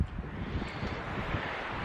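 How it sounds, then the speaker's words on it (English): Strong wind roars steadily across the top of Minaret Vista, a mountain lookout near Mammoth Lakes, a dense, close buffeting rush that fills the whole stretch with no voices. "It's friggin' windy up here."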